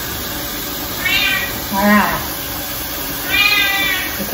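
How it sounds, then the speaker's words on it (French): A cat meows three times at moderate volume, the calls evenly spaced across a few seconds, with a brief spoken word between them in a quiet home. "Le comportement normal du chat."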